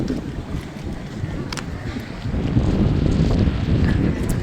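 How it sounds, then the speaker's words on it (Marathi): Strong wind blows outdoors under a cloudy sky, a steady low rumbling buffet against the microphone that grows louder partway through. "लय भारी वारा चालू आहे"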